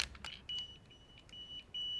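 Short electronic beeps sound in a few brief bursts, fairly faint, with small clicks between them and no talking.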